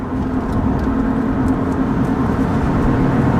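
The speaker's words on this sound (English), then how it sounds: "We are hopping on the highway here in Mexico, so I'm gonna do a quick highway pull." A car accelerates on a highway in Mexico, its engine droning steadily with constant road and wind roar heard from inside the cabin.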